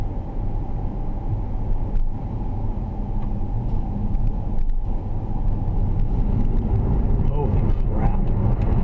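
A Tesla Model S electric car accelerates hard, giving a steady, loud rumble of road and tyre noise with no engine roar, continuous throughout.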